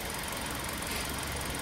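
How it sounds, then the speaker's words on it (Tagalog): A Hyundai Accent engine runs at idle, a faint steady hum with a low even rumble, unbroken and without voices. "So, ito yung makina na ginawa natin."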